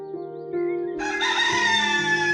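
A rooster crows loudly and close in one long, rising cock-a-doodle-doo, heard alone in a cartoon farmyard setting.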